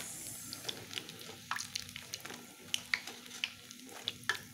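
Battered crispy mushrooms fry in hot oil with close, constant sizzling and sharp irregular crackles and pops, with no voice over it.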